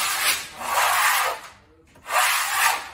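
A big smoother sweeps over wallcovering in two long, close scraping rubs separated by a short quiet gap, a dry, papery swish with no talking.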